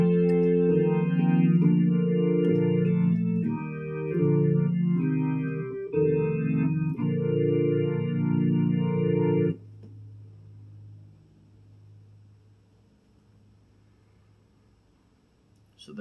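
Sustained electronic organ chords play on a Korg Kross synthesizer in a steady progression for several seconds, then cut off, leaving a faint lingering hum.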